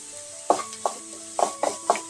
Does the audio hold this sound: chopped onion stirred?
yes